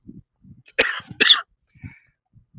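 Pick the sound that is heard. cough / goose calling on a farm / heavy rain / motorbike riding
cough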